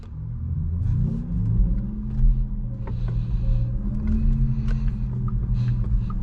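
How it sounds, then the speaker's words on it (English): Synthetic electric sports sound from a 2022 Porsche Taycan 4 Cross Turismo while driving, a steady low droning hum with layered tones that rise and swell gently, continuous and fairly loud throughout. "The electric sports sound sounds insane."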